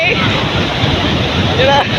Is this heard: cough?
no